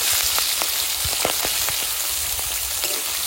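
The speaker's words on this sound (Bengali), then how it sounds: "এবার এটা ভালো করে একটু ভেজে নেব।" Chopped onion frying in hot oil with nigella seeds, cumin and slit green chilli, a steady close sizzle with scattered crackling pops throughout, no voices.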